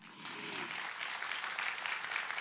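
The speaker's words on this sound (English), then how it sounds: "Let's hear a big round of applause to welcome everybody joining us this morning." A summit audience applauds to welcome attendees at a morning session, a faint, even wash of clapping that starts abruptly and holds steady.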